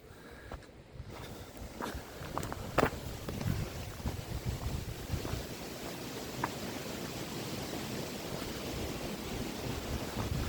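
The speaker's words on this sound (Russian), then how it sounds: "Тут ветер очень сильный." Strong wind roars and buffets the microphone continuously on a hiking trail toward a waterfall, a dense, steady rush with occasional gusty peaks and no speech.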